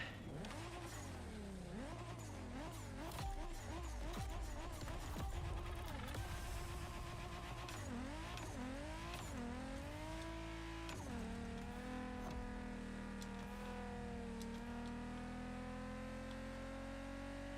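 A Toyota Supra in The Crew Motorfest revs through repeated rising gear sweeps, then settles into a sustained high-rev drone, with engine and tyre noise close and continuous.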